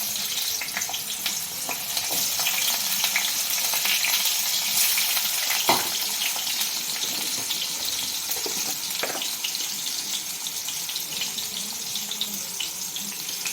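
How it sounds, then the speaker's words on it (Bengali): Cumin seeds fry in hot oil in a wok with a steady, fairly loud crackling sizzle that holds for the whole stretch, broken by a few sharper pops and no talking. "কড়াই জিরে দিয়ে দিলাম"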